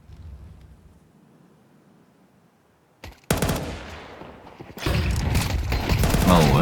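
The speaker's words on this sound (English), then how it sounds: "Really like the flashbang there." During a Counter-Strike match on Dust 2, a quiet lull breaks with a sudden sharp flashbang burst, followed by loud chaotic gunfire and game noise that keeps rising.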